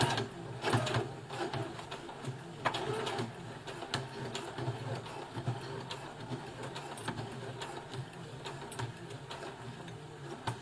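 A Brother FS60X sewing machine runs steadily while hemming jeans, a close mechanical whir with rapid needle clatter that briefly falters and resumes, without speech.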